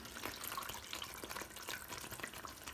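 Water is poured into a small bowl set inside a pot of spiced black chickpea curry, a soft, continuous splashing trickle with light bubbly patter, faint and close, with no talking.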